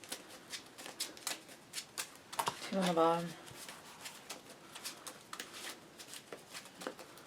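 A Cardfight!! Vanguard card deck is shuffled by hand, with soft, quick riffling and snapping at close range, mixed under a person talking throughout, with a short chirping burst in the middle.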